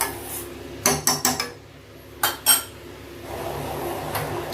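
Pots handled while straining jaggery syrup after the stove is turned off, a few sharp metallic clanks and knocks in two short clusters over a low background hum.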